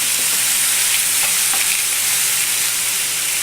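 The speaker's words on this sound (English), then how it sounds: "so we're going to just saute this so it gets a little kind of glassy looking" Food sautéing in canola oil in a pan, a loud, dense, unbroken sizzle heard up close, with faint stirring and no talking.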